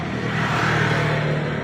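A Honda XRM 150 motorcycle engine with a misfire runs up close with a steady, loud buzzing drone, holding an even idle-like rhythm throughout.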